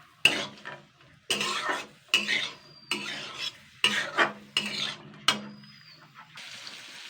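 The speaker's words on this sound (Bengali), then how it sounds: "এইভাবে আমি একটুখানি হালকা ভাজা করে নেব।" Spoon strokes scrape and clatter through a pan of poha ingredients and potato being lightly fried, about eight distinct stirring bursts separated by quieter sizzle, close and unaccompanied by speech.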